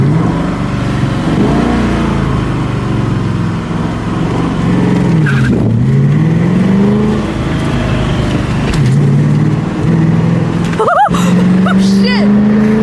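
A project car's engine runs during a drive, with a steady close drone that rises and falls as it revs and shifts, a sharp burst near the end, and someone talking over it.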